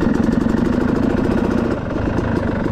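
A high-compression motorcycle engine in first gear runs close and loud, a fast, even rumbling chug that holds steady throughout with a slight dip partway.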